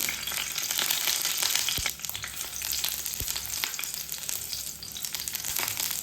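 Garlic cloves sizzle with popping mustard seeds in hot oil, a steady close crackle with a couple of sharp pops, no voices.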